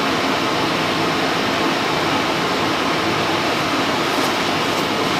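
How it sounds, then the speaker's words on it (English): Annex furnace combustion blower running steadily during a test fire, a constant close broadband whoosh and hum with no change in level and no talking. "And the blower's pumping out some warm air."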